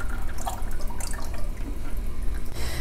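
Water drips and trickles from an aquarium filter lifted out of its casing into a jug, a close, continuous wet patter with scattered splashes.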